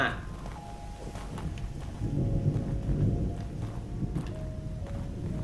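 Deep rolling thunder rumbles beneath a steady wash of rain in the video game The Evil Within, with faint sustained tones and occasional soft taps layered over the stormy background.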